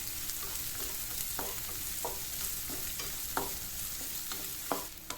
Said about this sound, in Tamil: இந்த வெங்காயத்தை லேசாக பொன்னிறம் வர வரைக்கும் ஃப்ரை பண்ணிக்கலாம்